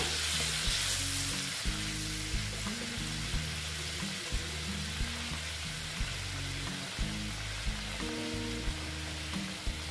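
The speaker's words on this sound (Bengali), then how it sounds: "দেখো জল অ্যাড করে দিলাম।" Water poured into a hot pan with onion greens for a katla fish curry sets off a loud, continuous sizzle and bubbling, with regular soft knocks from stirring throughout.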